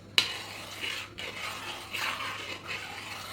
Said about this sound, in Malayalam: ഇതിലേക്ക് കണ്ടൻസ്ഡ് മിൽക്ക് ചേർത്ത് നന്നായിട്ട് മിക്സ് ചെയ്ത് കൊടുക്കാം